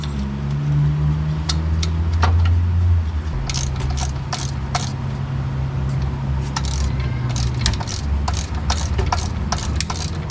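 A nut is tightened onto the alternator of a 2006 Mazda3 2.3 L, giving rapid ratchet clicks in quick bursts, close and loud over a steady low hum of background noise.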